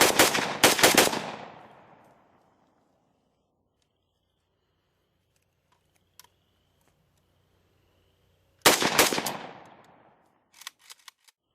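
A Romanian AK-variant rifle fires outdoors in two short, loud bursts of rapid shots with echoing tails, separated by a long silence, followed by a few faint clicks and handling noises.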